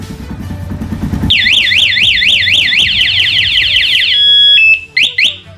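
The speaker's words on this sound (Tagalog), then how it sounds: "pag pinatay natin yung yung lock mamatay yan tapos mag-a-alarm siya" A motorcycle engine idles briefly, then its anti-theft alarm wails loudly in rapid rising-falling electronic sweeps, shifts to steady tones, and cuts off in short bursts.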